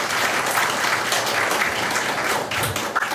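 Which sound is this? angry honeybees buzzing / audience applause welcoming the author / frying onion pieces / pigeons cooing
audience applause welcoming the author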